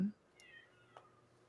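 A house cat gives a short, close meow right after a brief burst of a voice, followed by a fainter second chirp.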